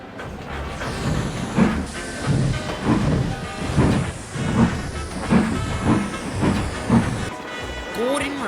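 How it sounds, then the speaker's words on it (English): Two steam engines pull a train out of a station onto the main line, giving steady rhythmic chuffing beats about every half second, with hiss and soft clicks from the wagons and a voice talking over the top. "the duo pulled the train out of the station and onto the main line"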